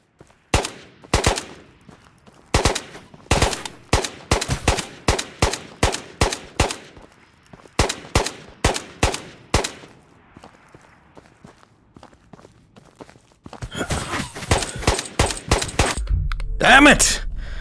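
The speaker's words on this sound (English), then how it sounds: "Gunfire front." Gunfire in the video game Ghosts of Tabor: sharp, loud shots crack out singly and in quick clusters across the clip, growing denser and more continuous toward the end.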